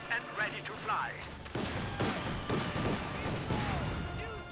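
Rifle fire crackles through a Company of Heroes 2 battle, with riflemen shooting at grenadiers in repeated sharp bursts over a dense background of game combat noise. A voice talks over the shooting.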